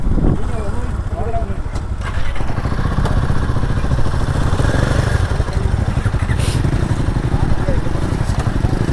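A motorcycle idles with a loud, throaty chugging while being shifted into neutral on a courier ride in Ladakh, the engine close and continuous with rough clatter, and someone talks over it.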